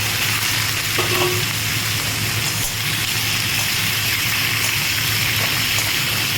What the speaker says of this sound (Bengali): এবারে আমি সবটাকে একটু ভাজবো, পেঁয়াজ আলু পেঁপে সব একটু ভাজবো।